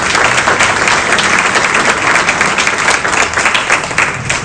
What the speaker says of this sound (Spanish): para que aplaudan más todavía